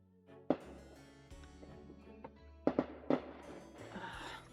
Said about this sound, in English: I don't know if you guys can hear the popping in the background, but they're setting off fireworks